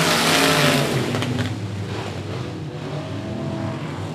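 Race cars roar and accelerate under the green flag at 105 Speedway, a loud, dense engine drone that swells at the start and then carries on steadily as the pack passes.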